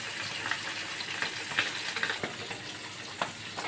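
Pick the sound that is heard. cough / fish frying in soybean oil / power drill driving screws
fish frying in soybean oil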